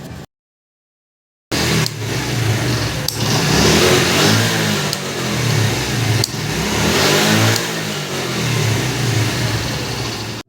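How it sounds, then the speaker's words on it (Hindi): A motorcycle engine starts after a key switch is fitted, following a moment of silence, then idles and revs loudly and close for several seconds. "तो स्विच फिट करने के बाद आपको स्टार्ट करके भी चेक कराई तो गाड़ी ऑन ऑफ हो रही है।"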